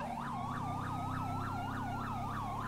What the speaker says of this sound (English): that siren is just absurdly loud and annoying.